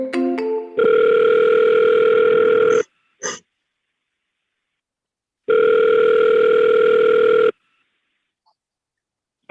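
Ringback tone of an outgoing phone call: after a brief burst of dialing tones, two long steady rings sound loud and clear, separated by a silent gap, with a short click between them.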